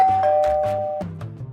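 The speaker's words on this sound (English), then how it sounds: "It revolutionizes the traditional doorbell that you have no idea who's knocking on the door." An Imilab smart video doorbell sounds a clear electronic chime, a short sequence of close, bright tones ringing out on its own and fading over about a second and a half.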